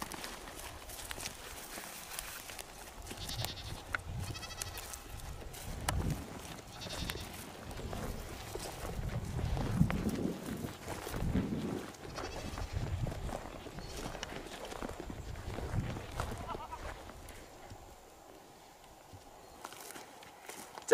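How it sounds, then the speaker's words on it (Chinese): Sheep and cattle roam a deserted mountain village in rural Guangxi, with scattered bleats and hoof steps over a steady outdoor background, no talk. "发现遍地的牛和羊啊"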